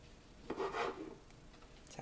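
A knife saws through the crust of bread, giving one short, quiet rasping stroke against a soft, low background.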